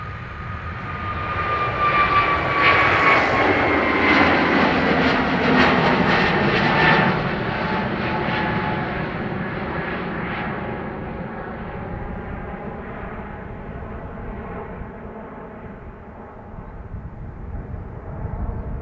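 An Aer Lingus airliner takes off from Dublin Airport, its jet engines building to a loud, broad roar, then slowly fading as it climbs away into the distance.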